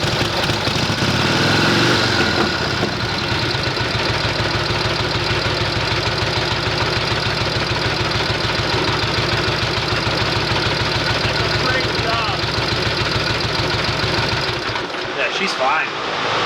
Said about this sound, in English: gear, ignition on, see, it wanted to start right there.